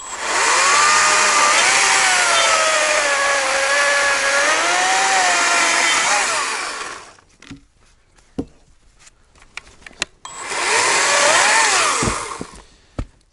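A chainsaw cuts for about six seconds with a loud, sustained whine that rises and falls under load. After a pause with scattered knocks it cuts again in a second burst.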